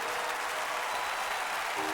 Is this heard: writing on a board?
no